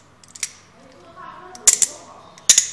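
Quick adjustable wrench having its T block adjusted, producing a few sharp metallic clicks and ratcheting snaps in short clusters, close and fairly loud.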